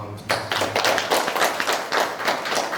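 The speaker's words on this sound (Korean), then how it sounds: "예비사회복지사 분들께 큰 박수 한번 부탁드립니다" Applause for trainee social workers at a closing evaluation ceremony for an advanced practicum, a room of hands clapping steadily and densely for about three seconds, close and fairly loud, with no talking over it.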